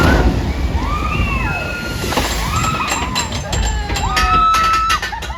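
Water sloshes and splashes down onto riders on a water ride at Wonderla amusement park in Bhubaneswar, a continuous wet rush under excited voices and squeals from the crowd.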